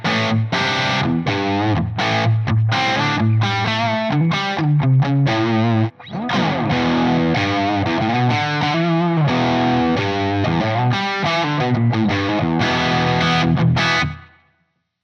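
Electric guitar played through a bright crunch amp model on a Tonex rig, chugging overdriven chords and riffs loud and continuous with a brief break midway, then ringing out and cutting off at the end.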